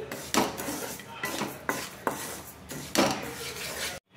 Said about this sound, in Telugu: ఫ్లేమ్ సిమ్లో పెట్టుకొని షుగర్ని ఇలా కరిగించుకోవాలండి. ఇలా తిప్పుకుంటూ ఉంటే క్యారమెల్ రెడీ అయిపోతుంది.